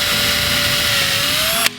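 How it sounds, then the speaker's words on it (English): A power drill boring holes into an old wood window sash for a lock, a loud steady high whine that stops abruptly near the end. "And now I'm going to take my drill"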